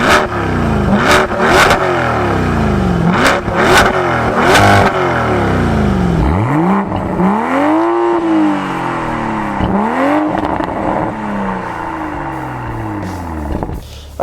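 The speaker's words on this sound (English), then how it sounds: "let's do a rev battle and see which one sounds better" A Chevy Corvette Stingray and a Toyota GR Supra take turns revving hard at a drag strip, each loud burst rising and falling in pitch, several short blips early, then longer sweeping revs close by.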